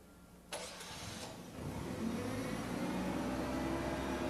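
A propane forklift engine cranks briefly, catches, and settles into a steady, close mid-pitched running rumble that carries on alone.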